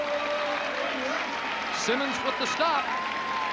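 A stadium crowd at Ivor Wynn cheers during a 1996 CFL game between the Toronto Argonauts and Hamilton Tiger-Cats, a broad wash of noise sitting under close play-by-play commentary.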